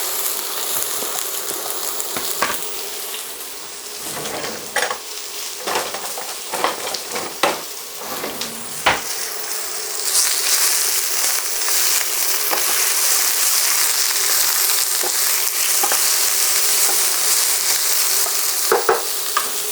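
Onions hitting smoking-hot olive oil in a pan give a steady, loud sizzle with scattered stirring scrapes and clinks, and the frying grows brighter and fuller partway through as it continues alone without talk.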